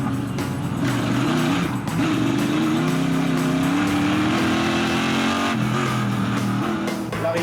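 A race car on the track at Circuit Paul Ricard during the Tour Auto, its engine droning loud and steady with a rising pitch as it goes past, and continuous track noise throughout.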